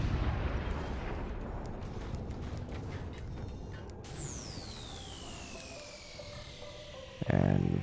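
Weapons firing in the strategy game Forts, a dense run of rumbling booms and blasts throughout, with a long falling whistle near the end and a sharp loud burst just before the close.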